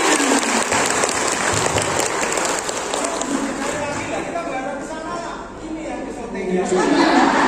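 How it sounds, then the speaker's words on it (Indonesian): An audience at a vocational school education event applauds loudly, the clapping mixed with chatter, some laughter and cheering voices across the crowd, swelling again toward the end. "Tepuk tangan semuanya."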